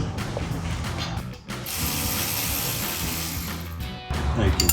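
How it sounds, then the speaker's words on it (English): Hand wrench ratcheting as bolts are tightened on Bilstein B6 4600 rear shocks of a Ford F-150, a close, steady clicking run broken by a short pause, then resuming louder. "Take the wrenches, tighten them up."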